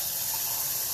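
Hot water is poured into a stock made from a dissolved stock cube, giving a steady close gushing splash with no break.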